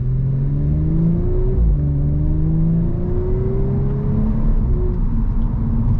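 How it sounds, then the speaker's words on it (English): 2018 Audi S5 Sportback accelerating with quick gear changes, the engine note climbing in pitch, dropping at each shift and climbing again, heard from inside the cabin over steady road noise, with no talking. "Very smooth, positive shifts. It moves."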